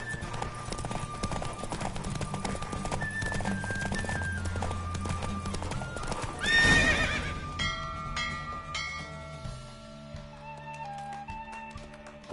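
Horse hooves clip-clop at speed with whinnying neighs in the Witcher 3 video game, over steady game music; a louder burst near the middle, then sparser hoof taps and tones toward the end.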